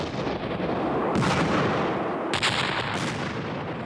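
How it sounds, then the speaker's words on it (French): Blasting charges go off in a mountainside during dam construction while diversion tunnels are cut: two heavy, booming blasts over a constant rumbling roar, loud and fairly distant. "des explosions ont secoué la montagne"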